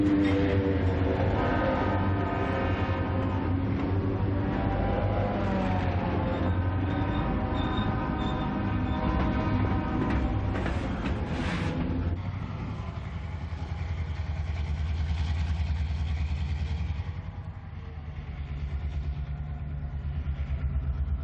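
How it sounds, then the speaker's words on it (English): A single GP7 diesel locomotive pulling a hopper car and a combine rolls past a crossing west of Wichita, a loud sustained engine rumble with rail clatter that eases off partway through, then picks up again. "The single GP7, a hopper car, and a combine slow down for the crossing and then pick up speed."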